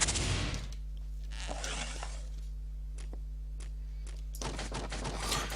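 Gunfire in the video game Legends of Might and Magic: a few bursts of shots open the clip, scattered single reports and clicks follow, and a louder volley returns at the end over a steady low hum.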